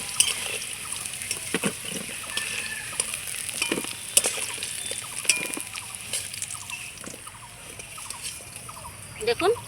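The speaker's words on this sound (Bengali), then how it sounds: "দেখুন আলুটা কত সুন্দর আমি লাল লাল করে ভেজে নিয়েছি। আর একটু ভেজে নেব" Potatoes frying in oil in a pan, a steady crackling sizzle with occasional stirring scrapes, close and moderately loud, with a voice talking over it.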